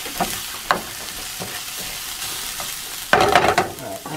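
Steady crackling sizzle of bacon frying in a pan during meal prep, with a few clanks and scrapes of a utensil and a louder burst of spattering near the end.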